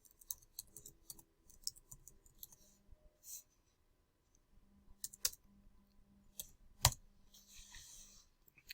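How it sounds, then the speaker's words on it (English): Quiet, scattered clicks of typing on a computer keyboard, with short bursts of keystrokes separated by pauses and one sharper tap near the end. "So let me see if I can type in Just Host here."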